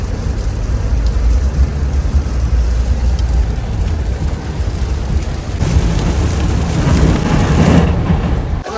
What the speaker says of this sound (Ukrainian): Дощ приїхав з нами.